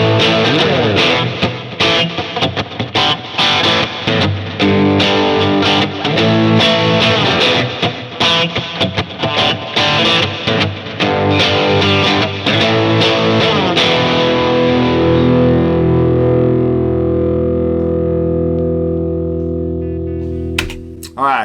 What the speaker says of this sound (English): we're going to hear the transition from clean, the dirty, to more dirty, and with some more effects.